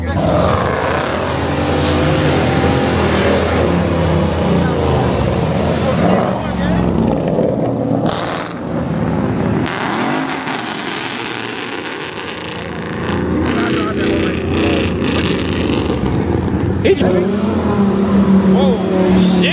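A Mustang passes in a flyby, a loud car engine roar that swells and fades around a busy car meet, with people talking and shouting over it throughout.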